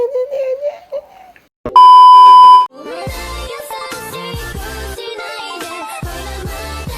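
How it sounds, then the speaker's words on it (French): Opening theme of the anime Vinland Saga: a sustained electronic beep gives way to a loud, busy musical passage with sharp rhythmic stabs and dense layered tones, close and full. "je vous envoie le générique"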